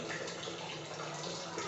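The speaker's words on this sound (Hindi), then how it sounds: "पानी के अंदर दबाव पड़ने के कारण पानी पाइप द्वारा बाहर की ओर आ रही है।" Water gushes steadily out through a pipe, pushed by pressure from a balloon, making a continuous close rushing and splashing without pause.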